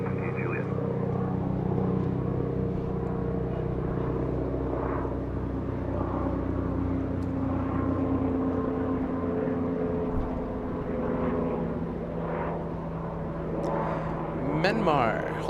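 A KLM airliner departing Los Angeles International Airport, a sustained low engine rumble with tonal hum that stays steady, then rises in a brighter swelling whine near the end, while a person talks over it.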